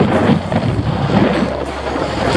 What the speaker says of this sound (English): We've been cruising into the wind.